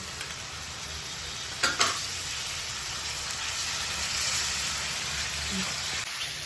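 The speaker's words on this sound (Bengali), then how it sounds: "জল দিচ্ছি যাতে মশলাটা পুড়ে না যায়।" Spice paste (masala) fries in a pan as water is poured in for a fish dish: a continuous close sizzle and hiss, with a brief sharper burst and stirring clatter partway through.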